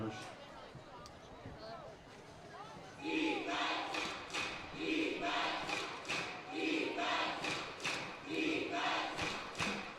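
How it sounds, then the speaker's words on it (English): At a high school football game, a home-stadium defense chant booms through the PA in rhythmic pulses with repeated thumping beats, over crowd noise and a commentator talking. "They are pumping the defense chant into the stadium and trying to fire up the Wolverine crowd at Magic Morgan Stadium"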